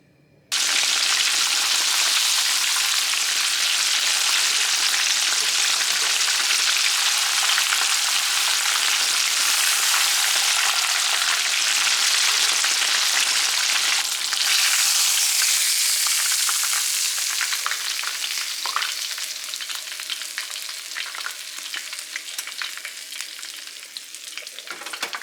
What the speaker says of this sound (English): I've got the fire going on the cast iron skillet. It's heating up. It's got a ways to go. And we'll get this fish fried